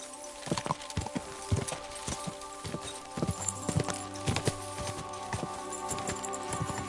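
Horse hooves clip-clopping in the video game Kingdom Come, a steady walking rhythm of sharp, close hoof strikes that picks up slightly toward the end over a faint ambient bed.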